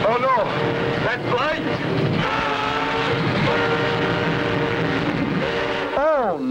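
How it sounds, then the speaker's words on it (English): A train roars through a tunnel in the old Clutch Cargo cartoon. The loud, continuous rumbling is broken by swooping whistle-like tones at the start and end, and voices talk over it. "A train in the tunnel."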